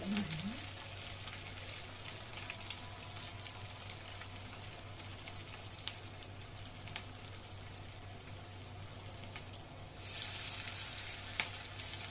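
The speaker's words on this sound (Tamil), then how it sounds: "இப்போ இதை டீப் ஃப்ரை பண்ணலாம்" Steady crackling sizzle of beef cutlets deep frying in hot oil, continuous and fairly quiet, briefly louder near the end, with an underlying hum.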